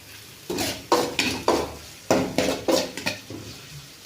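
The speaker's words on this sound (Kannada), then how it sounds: "ಅದನ್ನು ಹಾಕ್ಕೊಂಡು ಸ್ವಲ್ಪ ಫ್ರೈ ಮಾಡೋಣ" Ginger, garlic, cinnamon and cloves frying in a pan, with repeated loud metallic scrapes and clanks of a spoon stirring, close and rhythmic, over a light sizzle, with no talk.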